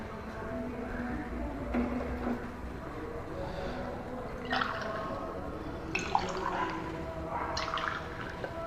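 Hot boiled milk is poured back and forth between vessels to cool it, making several soft, splashing pours and drips at low volume against a faint background.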